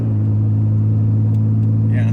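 A 1985 Pontiac Fiero GT driving, its engine producing a steady low droning rumble with road noise, loud and constant throughout, with a voice talking over it.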